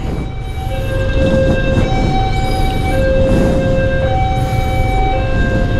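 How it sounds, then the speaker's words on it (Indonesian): A train passes close by in Medan, Indonesia, a steady loud rumble with long sustained horn-like tones sounding over it throughout. "ada kereta api"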